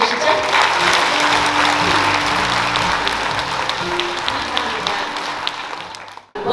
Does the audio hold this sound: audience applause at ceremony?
yes